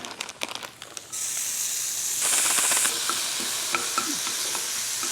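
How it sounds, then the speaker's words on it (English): Loud, continuous sizzling from chicken breast frying in a hot pan, with some stirring scrapes and crackles up front and a steady hiss throughout. "Chicken's cooking."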